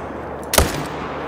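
A single sharp gunshot from a hunting rifle in the video game Call of the Wild, fired on a hunt for mountain sheep in Sundarpatan; one loud, close crack with a short decaying tail over steady ambient background.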